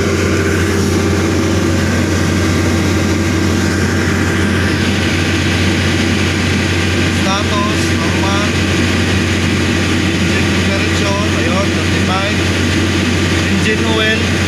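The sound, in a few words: generator set engine running during warm-up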